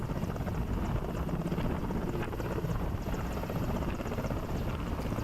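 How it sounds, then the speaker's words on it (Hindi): Army helicopter hovering over a flood-hit Himachal area while relief supplies are dropped, its rotor producing a loud, steady, continuous thrum that fills the whole stretch without pause. "आप सेना के हेलीकॉप्टर से राहत सामग्री गिराते हुए देख सकते हैं"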